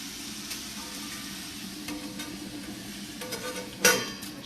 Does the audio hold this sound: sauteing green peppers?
yes